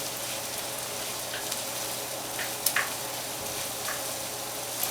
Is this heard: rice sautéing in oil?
yes